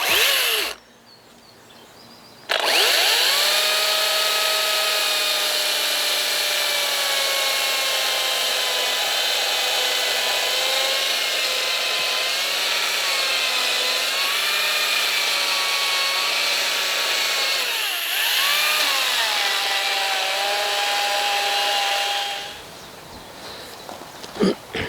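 A power chisel chipping at an earthbag workshop wall starts after a brief pause and runs as a loud, steady motorized buzz with slight pitch wobbles, then cuts off near the end.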